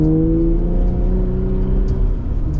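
Jeep Gladiator with an AWE exhaust driving, its engine a steady, loud, close droning hum with rising tonal lines as it pulls, no talk over it.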